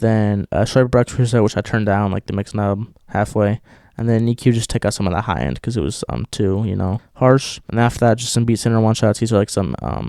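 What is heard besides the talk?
No distinct noise like a dog, phone or traffic.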